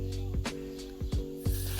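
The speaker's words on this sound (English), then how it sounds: "I'm using my Guts to Be spray and I'm spraying the edge of my hairline." Several short, soft hissing sprays from an aerosol can of hair spray aimed at the hairline, in quick bursts with brief gaps between them, close by.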